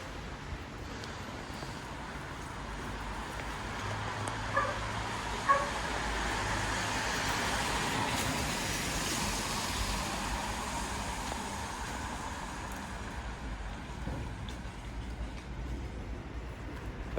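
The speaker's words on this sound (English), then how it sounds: "We are on a busy street in front of a bus stop." Steady, dense traffic rumble on a busy street by a bus stop on a rainy day, cars passing continuously at moderate distance with a few brief louder swells, no voices.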